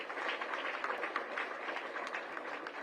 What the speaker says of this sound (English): I would request all of you to give a clap.